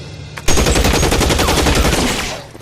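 Gunfire in the video game L.A. Noire: after a brief lull, a loud close burst of rapid automatic shots erupts and rattles on continuously for about two seconds before tailing off.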